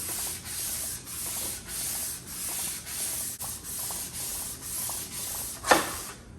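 Sandpaper rubs back and forth across a cylinder head surface by hand, steady rhythmic strokes roughly twice a second, close and fairly quiet, with one sharper scrape near the end.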